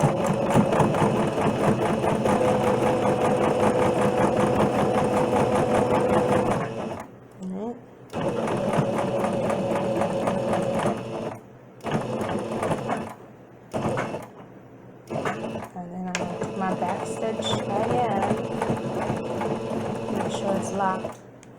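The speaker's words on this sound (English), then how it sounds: "I'm just going to sew it again." Sewing machine running loud and steady while back-stitching a fabric mask, a continuous mechanical drone that pauses several times for reverse and restarts, with a person talking briefly between runs.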